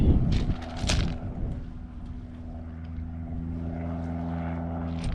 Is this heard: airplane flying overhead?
yes